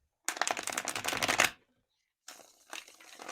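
A deck of tarot cards is shuffled in two close bursts of crisp riffling and flicking, separated by a short pause.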